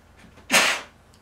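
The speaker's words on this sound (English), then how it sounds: "I gotta sneeze" A single sharp, breathy sneeze bursts out close to the microphone, brief and loud, then fades into quiet room noise.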